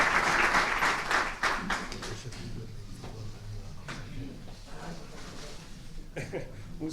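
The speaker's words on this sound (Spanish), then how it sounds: "espero que lo recibáis con un fuerte aplauso" Audience applauding at a commemorative conference in a museum, loud clapping at the start that thins and fades into scattered claps and room noise, with some voices murmuring.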